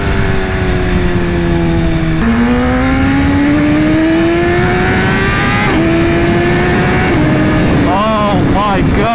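A BMW S1000RR motorcycle with an Akrapovic exhaust roars loudly and close, its engine pitch climbing through several gear changes, then blipping in quick revs at the end.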